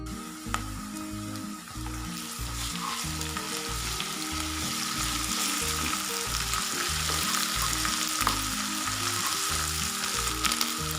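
Ginger garlic paste frying with onions in a pan for aloo methi gives a loud, steady sizzle that runs unbroken from start to finish, with no voices.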